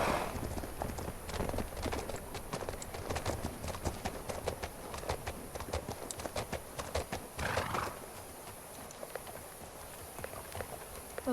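A horse in the video game Legend of Khiimori clip-clops at a steady trot, with a brief neigh partway through; the hooves stay quiet and even over soft ambient noise.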